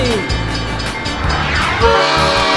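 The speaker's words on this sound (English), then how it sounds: "Oh my god, train!" A toy train sounds its horn in clear sustained tones over a loud, close rumbling run, the horn pitch sliding and swelling partway through.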